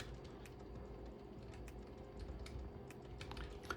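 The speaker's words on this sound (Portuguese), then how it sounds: "pressiona a tecla para o menu de boot" Scattered computer keyboard key presses, close and fairly quiet, set during a PC boot-menu selection, tapping irregularly over a steady low background hum with no voices.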